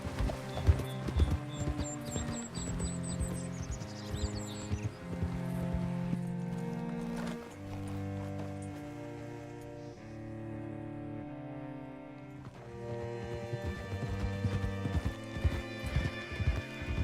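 Horse hooves clip-clop steadily on a trail in the video game Red Dead Redemption 2, paired with a whinny, while a music score plays over the whole stretch.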